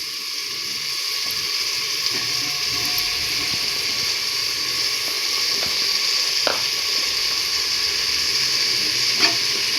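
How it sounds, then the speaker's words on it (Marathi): Hot water poured into a pan of frying mixed-vegetable curry sets off a steady, close sizzling hiss that holds for the whole stretch, with a couple of faint clinks near the end and no voices. "गरमच पाणी टाकायचं, थंड पाणी नाही टाकायचं."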